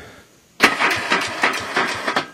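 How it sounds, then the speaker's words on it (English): An engine starter cranks weakly in a rapid, uneven rhythm after a brief quiet pause, the motor turning over sluggishly without catching, close and fairly loud. "try to turn the engine over."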